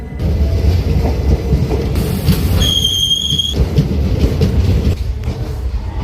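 Mangala Lakshadweep Express passenger train running from Ernakulam toward Delhi, heard from inside a coach: a steady loud rumble with rhythmic wheel clatter throughout and a brief high squeal or tone in the middle, no voices.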